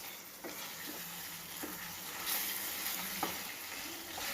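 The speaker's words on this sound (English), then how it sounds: "you need to be very careful because it splatters as it goes on cooking" Chicken ghee roast, Mangalore style, sizzles and splatters steadily in a hot pan with ghee, a continuous close frying hiss broken by a few sharp spits and pops, with no talking.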